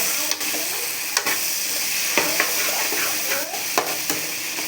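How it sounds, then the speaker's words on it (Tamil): Bitter gourd sautéing in a pan, a loud continuous close sizzle with spatula scrapes and stirring knocks recurring every second or so. "நல்லா வதக்கிக்கணும் பாவக்காயை, அப்போ தான் கசப்பு இருக்காது."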